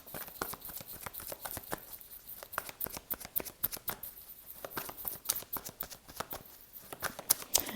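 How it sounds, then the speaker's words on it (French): Oracle cards being shuffled and drawn by hand, a close, quiet run of rapid crisp flicks and papery slaps in irregular bursts, with no talking. "Allez, on va tirer d'autres cartes pour en savoir un peu plus."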